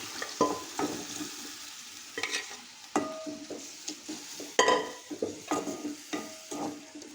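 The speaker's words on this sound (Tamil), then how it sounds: "அந்த மட்டன் உள்ள சேர்த்துக்கலாம்." Cooked mutton added to frying masala in a pan for a mutton fry, with a steady sizzle and repeated scraping stirs of a spoon against the pot, close and without talk.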